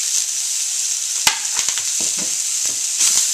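Carrots and mixed vegetables sauté for veggie fried rice, a steady close sizzle broken by a few sharp scrapes and clacks of a utensil stirring the pan.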